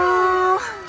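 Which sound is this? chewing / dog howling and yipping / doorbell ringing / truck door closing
dog howling and yipping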